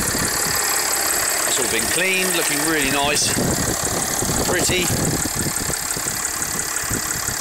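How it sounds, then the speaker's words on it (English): Mercedes E320 CDI seven-seat diesel with 137 on the clock idling steadily, a constant close engine rumble under someone talking throughout. "As you can hear, idling over nicely"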